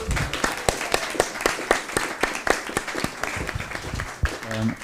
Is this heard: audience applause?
yes